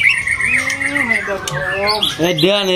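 A murai songbird (magpie-robin) from Medan sings loud, close and varied, with rising whistles, squawks and chattering phrases, while someone speaks briefly over it.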